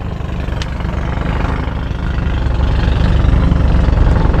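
A vibrating engine idles steadily at close range, a dense low rumble that holds even and grows slightly louder toward the end, with no voices.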